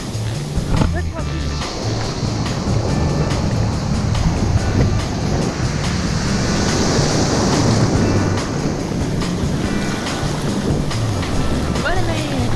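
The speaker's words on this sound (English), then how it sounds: "Almost got taken out by a wave." Ocean waves roll and break on the beach at Ixtapa, Mexico, making a loud continuous roar and wash of surf close by, with people talking and calling out over it.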